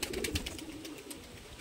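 Madrasi fancy pigeons coo, a low soft throaty burbling close by, running continuously through the moment with no talk.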